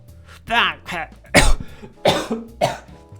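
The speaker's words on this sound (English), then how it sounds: "Authentic coughing noise." A person coughs from dust in several harsh, close bursts, preceded by a strained voiced sound, with short pauses between coughs.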